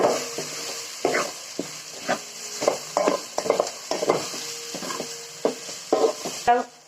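A spatula stirs and scrapes egg and chopped chapati in a hot pan for kothu chapati. The scrapes and taps repeat at a steady pace over a soft, constant sizzle, close up and moderately quiet.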